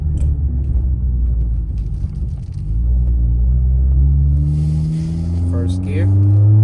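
A 2018-2022 Honda Accord with the muffler and resonator deleted is driven on streets, putting out a loud, deep exhaust rumble with rising tones as it accelerates through gears, while a voice talks over it.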